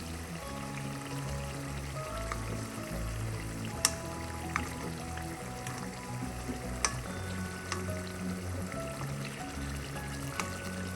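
Green prawns sizzle and fry in a pan over a medium flame, a steady crackling hiss that runs throughout, with occasional sharper pops and the faint clink of a utensil turning them.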